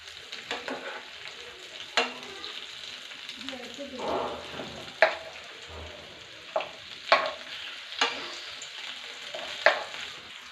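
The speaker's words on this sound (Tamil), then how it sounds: "வெண்டைக்காய் கொஞ்சம் நல்லா ஃப்ரை ஆயிடுச்சு." Masala-stuffed okra fries in a pan as pieces are turned, a soft continuous sizzle broken by several sharp utensil clinks and taps against the pan, close up, with no talk.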